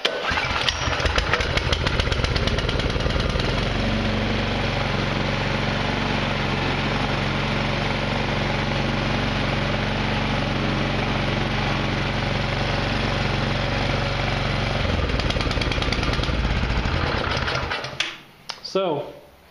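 A Craftsman SB 710 snowblower engine pulls to life and runs loud and close with a steady rumbling drone that shifts in pitch partway through, then cuts out near the end amid handling noises; someone talks over it.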